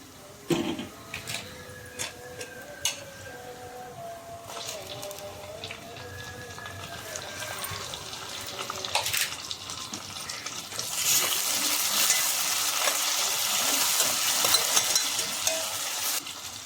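Tomatoes tip into a pan of frying onions, raising a steady sizzle that builds louder and denser over the second half, with scattered clinks and stirring scrapes early on and no talking.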